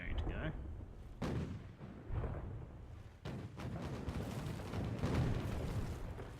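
A cannon shot from the Spanish first-rate ship Santisima thunders in a naval battle video game against the Constitution and two Trincomalee frigates, with a sharp boom followed by rumbling, layered blasts and continuous battle noise throughout.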